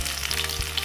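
Shallots, ginger and garlic fry in a tablespoon of hot coconut oil for a Kerala-style tomato rasam, giving a close, steady, crackling sizzle with no talk.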